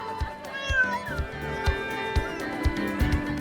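A cat meows repeatedly with short rising calls near the listener, under light background music with soft thumping taps.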